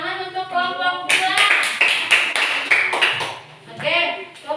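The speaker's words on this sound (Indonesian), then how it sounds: "Nah, tepuk tangan untuk kelompok 2" Classroom clapping for a student group: a burst of rhythmic hand claps from several students, loud and close, with a teacher talking over the start and end.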